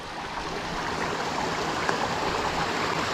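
A small stream at Hannah's Well, a water source at High Cup Nick, flows with a steady, even rushing and trickling wash that stays constant and close, with no voices over it.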